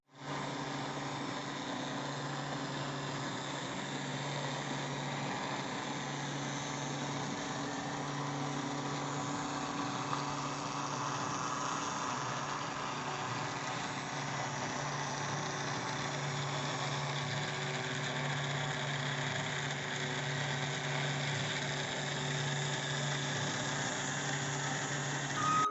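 A small 60 RPM motor runs continuously in an accident-prevention model, giving a steady, even mechanical hum and whine with no breaks, close and moderately loud.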